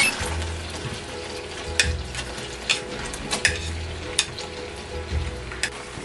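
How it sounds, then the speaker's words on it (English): Onion sautéing in hot oil in a pot, a steady close sizzle with occasional sharp clinks of a utensil stirring against the pot. "Saute onion first."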